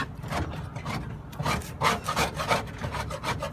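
A bird cage floor is scraped clean in close, rhythmic strokes, each a gritty rasping rub repeated several times in quick succession.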